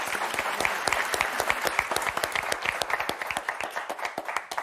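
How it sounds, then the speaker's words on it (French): Studio audience on the French TV game show Motus claps steadily, many hands applauding close and loud, then gradually tapering into sparser claps. "Et de tonnerre d'applaudissements pour Cathy et Catherine, s'il vous plaît."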